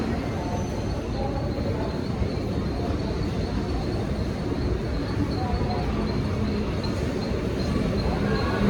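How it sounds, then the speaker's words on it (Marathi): A train rumbles steadily throughout, a dense low roar with rattling, loud and continuous with no clear pauses. "आल्या आल्या लगेच ट्रेन भेटली"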